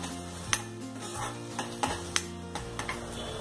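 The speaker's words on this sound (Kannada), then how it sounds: "ಶುಂಠಿ ಹಾಗೂ ಹಸಿಮೆಣಸನ್ನ ಹಾಕಿ ಶುಂಠಿ ಸ್ವಲ್ಪ ಫ್ರೈ ಆಗೋವರೆಗೆ, ಸ್ವಲ್ಪ ಹಸಿ ವಾಸನೆ ಹೋಗೋವರೆಗೆ 1 ರಿಂದ 2 ಸೆಕೆಂಡ್ ಫ್ರೈ ಮಾಡ್ಕೊಳ್ಳೋಣ" Ginger and green chilies fry in a pan while a utensil stirs, giving a low sizzle under several sharp scraping clinks spaced irregularly across the short stretch.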